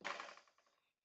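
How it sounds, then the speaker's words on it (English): Scissors knocked over on a kitchen counter during meatloaf prep, giving a quick metallic clatter that rings briefly and fades out over under a second, with no voices. "I hit the scissors."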